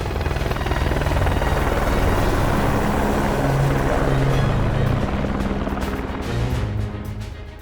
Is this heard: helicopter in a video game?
yes